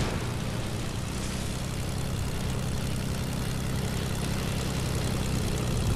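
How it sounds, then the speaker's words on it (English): An enemy propeller plane circling overhead in a squads battle-royale video game match, a steady, droning engine hum that holds constant and fairly loud throughout, with no talk. "There's an enemy plane."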